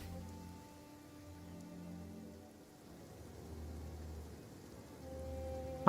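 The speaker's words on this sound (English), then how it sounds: "Taking shelter and listening to the rain cleanse the earth makes me feel safe." Rain falls in Genshin Impact as a soft, steady hiss of drops on surfaces, faint and continuous, with some tonal game sounds in the background.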